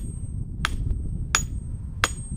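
A metal hammer taps a sledgehammer head down onto its new wooden handle: three sharp, evenly spaced knocks, close and distinct, with no talking.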